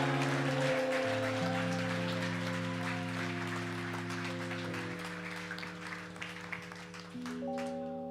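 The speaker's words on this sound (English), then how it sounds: "I don't know why you clap." An audience claps steadily through a dense patter at a live concert at Campus JAX. Sustained keyboard chords ring beneath, and the applause thins out toward the end.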